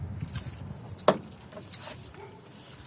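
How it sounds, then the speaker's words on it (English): A bunch of car keys jangles briefly and close by, a short metallic clink standing out over quiet background noise. "So many keys, Ray."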